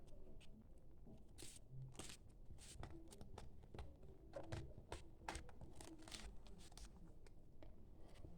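Someone opening a sealed paper packet by hand during a paper unboxing, with soft scattered crinkles and tearing rustles close up in a quiet room.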